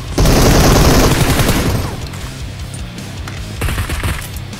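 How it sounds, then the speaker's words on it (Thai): A grenade goes off in the PUBG Mobile battle game with a loud, close blast that rumbles and fades over a couple of seconds, while gunfire crackles around it. Another burst of noise rises near the end. "มีระเบิดทิ้งมา"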